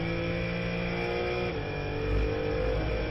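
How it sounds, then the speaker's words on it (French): Race car on a circuit braking hard into a corner and dropping two gears, engine note loud and close with a steady droning tone that shifts as the revs change, then a brief low surge near the end. "donc là il arrête quand même beaucoup la voiture, il tombe 2 rapports"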